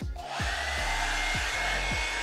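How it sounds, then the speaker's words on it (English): A Revlon One Step hair dryer with a paddle brush attachment blows steadily while straightening curly hair for a silk press, a loud continuous motor whine with a rising pitch and rhythmic brushing strokes underneath. "I'm just gonna use my Revlon One Step Hair Dryer with the paddle brush attachment."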